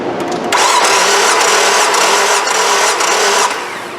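A Nissan 2.5 engine cranks at wide open throttle, a loud, close, steady whirring starter churn lasting about three seconds before tapering off, with no catch or start.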